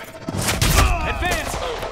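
Gunfire in the video game Quantum Break sounds in a short burst of bursting shots and thuds, loud and close, mixed with game effects and voices over roughly two seconds.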